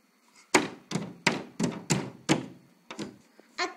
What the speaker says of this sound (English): I'm banging with my hand closed